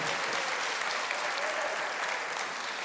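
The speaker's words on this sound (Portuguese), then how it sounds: "pode aplaudir, está com vontade" A church congregation applauds during a sermon, a steady, dense wash of many hands clapping at a moderate distance, sustained and even for the whole moment.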